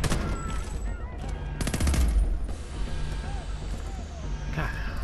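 Rapid automatic gunfire in the video game Homefront: The Revolution, dense bursts over a continuous noisy game bed with a voice talking over it.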